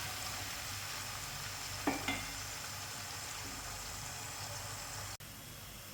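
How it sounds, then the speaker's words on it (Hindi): Onions fry in hot oil for an anda masala as they brown, a steady hiss of sizzling with a couple of brief stirring scrapes near the middle, moderately loud and without speech. "सबसे पहले दोस्तों हम इसमें प्याज ऐड करेंगे। और दोस्तों प्याज को बिल्कुल अच्छी तरीके से हमने ब्राउन करना है।"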